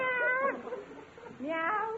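A voice playfully imitates a cat's meow, two drawn-out, sliding mews separated by a short pause, close and clear with no other talk around them.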